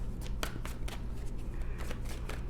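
Tarot cards being shuffled by hand, a quick run of crisp riffling flutters and soft slaps repeating in short bursts, close and fairly quiet.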